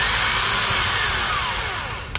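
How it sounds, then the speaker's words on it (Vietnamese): A Makita 24V cordless hammer drill, model EZ6813, spins up loud and close with a high, steady whir that slowly tapers, ending in a sharp click as the trigger releases. "Đây khoan búa khoan thường đây."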